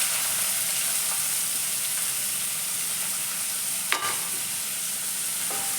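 Finely chopped onions frying in hot oil, a steady broadband sizzle throughout with a single sharp clink of a utensil near the end, no voices.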